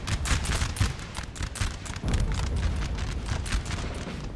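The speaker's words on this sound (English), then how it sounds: "Nice shots there from the French." Volleys of French musket fire in a Napoleon Total War battle, a loud rolling crackle of many overlapping shots with deep booms mixed in, continuous throughout and without speech.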